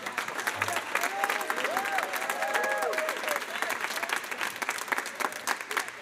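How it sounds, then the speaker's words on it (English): Concert audience applauding a guest accompanist at a school music preview concert, steady dense clapping throughout with a few faint voices mixed in. "Can you please give a big round of applause for Mr. Schaefer?"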